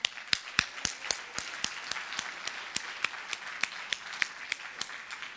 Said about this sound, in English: I think all of you deserve a big round of applause for that.